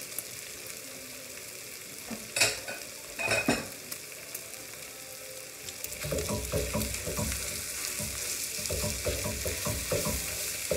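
Mixed ground beef and pork fries in a pan, a steady sizzle broken by two sharp scraping clatters early on, then denser crackling and stirring scrapes that keep going to the end.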